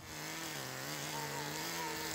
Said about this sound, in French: C'est la mini tondeuse pour couper l'herbe sans couper les pâquerettes.